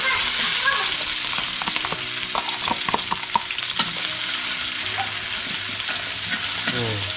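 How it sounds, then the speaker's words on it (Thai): Garlic and chili stir-fried in a wok for Thai Yai-style yellow noodles, a steady hot sizzle with repeated clattering strokes of a spatula against metal throughout, close up and with no talking. "เรามาผัดกันเลย เครื่องปรุงก็จะมี กระเทียม แล้วก็พริกนะฮะ"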